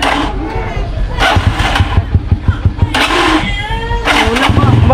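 A motorcycle engine near a river putters and revs in short bursts close by, with people talking over it throughout.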